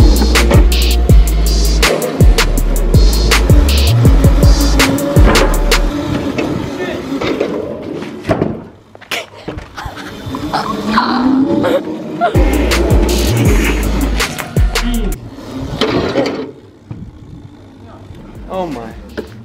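Crazy Cart electric go-karts drifting in a public park, with scrapes and whirring bursts close by that come and go while people shout and talk excitedly throughout.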